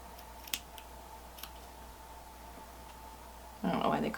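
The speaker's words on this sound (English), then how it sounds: "And then I take my little scissors and cut those little dog ears off." Small scissors snip the dog-ear corners off pieced quilt fabric, giving a few light, brief cuts early on and a louder burst of cutting near the end, set against faint room hum.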